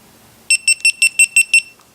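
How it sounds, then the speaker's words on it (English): A GoPro Hero 3 Black camera powering off gives seven evenly spaced, shrill electronic beeps in quick succession, loud and close, with near silence before and after. "You're going to hear 7 beeps, and that means that the camera's off."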